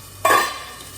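Bacon hits olive oil in a hot frying pan with a sudden loud sizzle that settles into steady crackling frying, close up with no talking.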